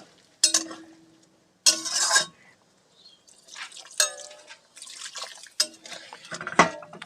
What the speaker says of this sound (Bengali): এবার আমি এখানে গরম জল অ্যাড করে দিচ্ছি